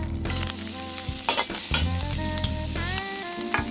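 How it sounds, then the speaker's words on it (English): Garlic dropped into hot cooking oil in a wok sizzles and crackles loudly and steadily, with short bursts of stirring and clinking, no voices. "We're going to put a little bit of cooking oil back in there. And we're going to add our garlic"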